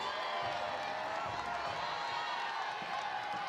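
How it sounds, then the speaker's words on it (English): Crowd at a college softball championship game between Florida and Mercer cheering, a steady distant roar of voices and clapping filling the stands with no breaks. "Crowd getting into it."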